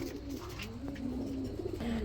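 A pair of black nun pigeons cooing softly nearby, low rolling coos repeating through the moment over a faint background hum.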